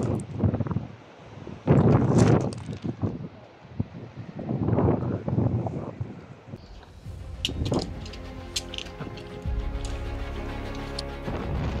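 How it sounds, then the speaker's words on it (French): Strong gusts of wind near a mountain summit in Patagonia, around El Chaltén, roar in heavy bursts against the microphone, rising and falling, then ease into a steadier blustery rumble with some rattling. "Plus on se rapprochait du sommet, plus il y avait du vent."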